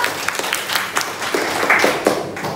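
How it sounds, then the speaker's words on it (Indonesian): A burst of clapping from a sixth-grade class of children, scattered and uneven, fairly close and loud for a couple of seconds. "Tepuk tangan untuk teman-teman kalian sudah menjawab."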